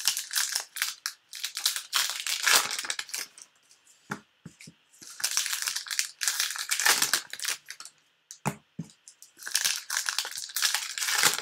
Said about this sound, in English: Junior just loves the sound of packs being ripped.